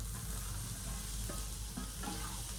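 Shallow-fried paneer being stirred into a pan of sizzling masala: a close, constant fry hiss with several scraping spatula strokes over it, no talk.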